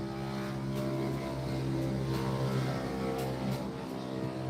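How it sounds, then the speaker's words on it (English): A moped passing loudly, its engine a steady, dense buzzing drone that fills the whole stretch at close range, with no talking over it. "Did y'all hear that moped? It was mad loud to me."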